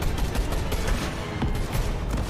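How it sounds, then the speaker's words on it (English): Rocket launcher firing in the fantasy video game Tainted Grail, a dense, loud barrage of booming blasts and crackling bursts filling the whole stretch with no pause. "Oh, rocket launcher."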